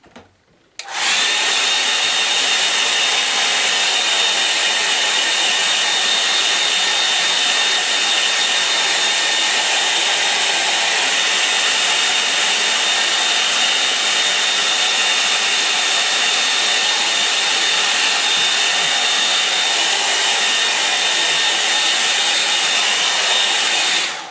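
A hair dryer blowing on a snow-scene painting runs as a loud, constant whooshing roar from a sharp start, holding steady with no pauses or talk.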